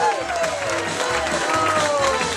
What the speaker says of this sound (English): how about a nice round of applause for the Watkoski family?